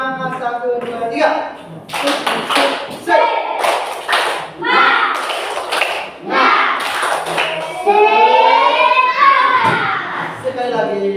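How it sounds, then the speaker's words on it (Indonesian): A classroom of children performs a rhythmic spirit clap, bursts of group clapping falling in a patterned beat between loud chanted voices, close and lively throughout. "Sekarang kita tepuk semangat ya."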